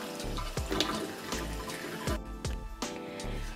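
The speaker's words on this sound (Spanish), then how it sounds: "vamos a coger una por una y las vamos a ir lavando" Eggplants washed one by one under a running tap, the steady rush of faucet water broken by repeated splashes and thuds as each piece is handled and rinsed, close and continuous without talk.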